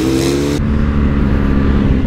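A BMW 1250 GS motorcycle riding past with a loud, close engine roar that holds steady for about two seconds, its tone shifting as it goes by.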